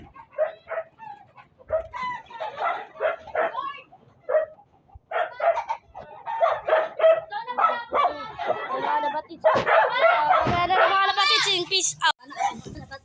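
A dog barks and yips in short bursts near a rooftop where chickens are kept, mixed with people talking and a rooster calling throughout.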